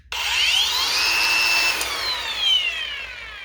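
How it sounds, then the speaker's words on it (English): Cordless angle grinder with a paddle switch and heavy battery pack, whining up after a delayed start and ramping to a smooth, steady high-pitched spin that sustains alone, close by. "So this one has a delayed start. Takes a little while to ramp up, but it is actually pretty smooth."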